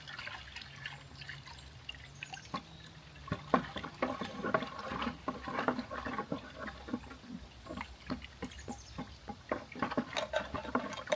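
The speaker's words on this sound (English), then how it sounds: "So let's put this paraffin wax in here slowly." Melted paraffin wax is poured slowly into a container in an off-grid setting. Soft liquid trickles and drips come with small irregular splashes at moderate distance, quiet and without talk.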